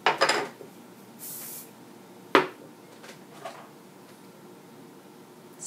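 Hairspray hisses out in one short, sharp burst during a hot roller set, framed by soft clinks and handling noises of the rollers nearby.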